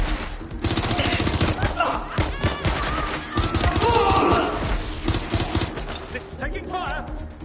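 Gunfire in Watch Dogs Legion, a dense close burst of rapid automatic shots with scattered impacts and shouting voices over the firing, fading slightly toward the end.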